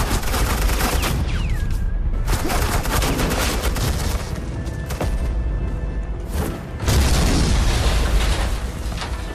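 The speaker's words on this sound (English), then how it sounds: "Suppressing fire." Heavy suppressing gunfire in Batman: The Enemy Within rattles in dense, loud bursts with booming impacts, pausing briefly a few times before resuming, a whistling tone threading through the barrage.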